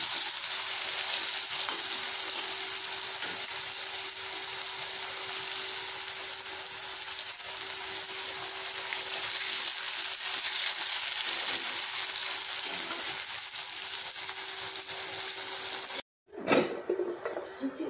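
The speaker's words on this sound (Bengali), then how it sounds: "এটা দিয়ে গাজরটা প্রথমে ভেজে নিচ্ছি" Carrots with salt fry in a pan for a mixed vegetable dish, giving a steady, dense sizzle that runs unbroken for about sixteen seconds before a brief cut and a short, louder burst of frying.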